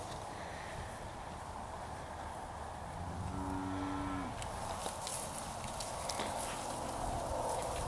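A calf at a cattle sale lets out a single drawn-out moo about midway, fairly faint against a steady murmur of background noise.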